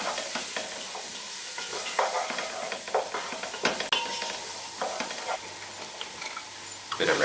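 Chopped shallot and diced carrot sizzle in a pan for slow-cooked lamb shanks, a close, continuous frying hiss broken by repeated scraping stirs of a utensil.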